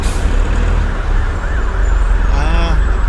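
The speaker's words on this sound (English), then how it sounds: "Sirens blare. Car horns honk. Sounds of traffic screaming." Dense, loud video game traffic noise with a wailing siren rising and falling and horns sounding through the roar.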